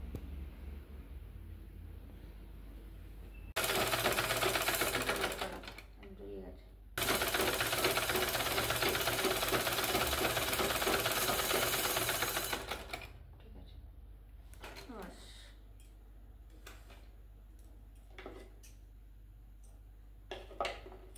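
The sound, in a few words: sewing machine stitching a table cloth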